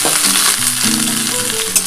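Boiled cauliflower stalks hit hot oil with potatoes in a pan, giving a continuous loud sizzle and crackle alongside stirring sounds, with no voices.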